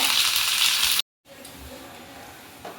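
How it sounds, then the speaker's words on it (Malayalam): Hissing, crackling oil as mustard seeds, fenugreek seeds and curry leaves splutter in a pan, cut by a brief silence, then a quieter steady sizzle. "ഉലുവ കറിവേപ്പില പൊട്ടി വരട്ടെ"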